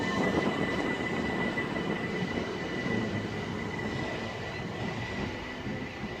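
A Ramsgate train stopping at Faversham station gives a steady, fairly loud rolling rumble with a faint high whine, holding constant throughout with no voices.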